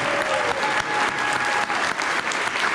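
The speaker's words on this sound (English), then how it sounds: "give him a big round of applause" A crowd at a church anniversary celebration claps steadily and fairly close, with the dense applause keeping an even level for a few seconds.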